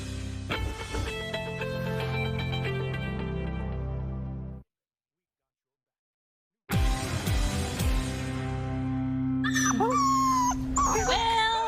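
Two puppies in a television studio yip, whimper and howl at close range, with a silent gap in the middle before high whining cries return over steady background sound.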